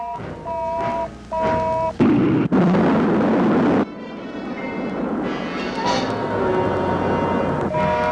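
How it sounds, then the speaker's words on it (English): Second-stage rocket firing as a sound effect in a 1958 black-and-white science-fiction film, a sudden roaring blast that turns into a sustained rumbling rush after tonal beeps, with a voice calling out over it. "Rocket 1, second stage. Fire."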